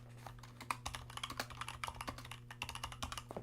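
Rapid, uneven typing on a computer keyboard, close and clear, with a steady low hum running underneath throughout.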